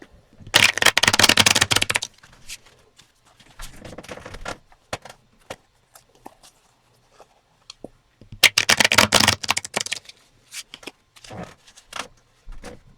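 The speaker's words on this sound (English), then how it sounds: "I'm going to do about 5 or 6 of these kinds of shuffles." Deck of cards being shuffled for a tabletop soccer board game, two long loud riffle bursts separated by quieter fiddling, taps and short card sounds, recorded close with no speech.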